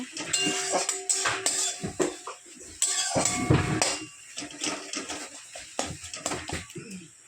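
Vegetables in a cooking pot are stirred and then covered with a lid, giving a series of close metallic clinks, scrapes and clatters in irregular bursts, with one louder clattering stretch midway and no talking.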